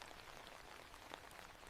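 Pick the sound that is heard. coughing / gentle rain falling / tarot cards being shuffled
gentle rain falling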